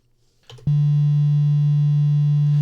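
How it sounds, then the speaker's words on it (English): Synthesized sine wave note from a Wavetracker wave instrument: after a brief soft click, a loud, pure, low steady tone starts abruptly and holds unbroken to the end. "And we now already have our sine wave playing."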